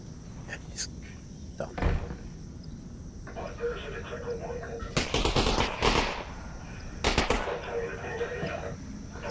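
Enemy gunfire in the VR game Half-Life: Alyx comes as a few sharp bursts of shots over quiet game ambience, with faint voice sounds in the background.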